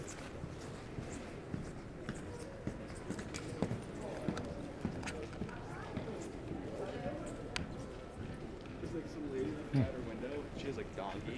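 Donkey hooves clip-clop on a winter village street, faint irregular knocks scattered through a long stretch of outdoor ambience with talk in the background.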